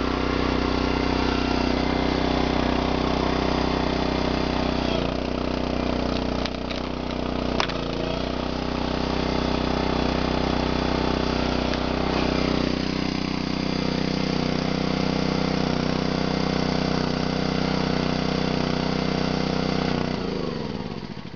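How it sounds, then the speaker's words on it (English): The engine of a homemade log splitter runs steadily close by, a dense, unbroken drone with a few brief clunks and shifts in tone as the splitter works, winding down at the very end. "That's the log splitter there."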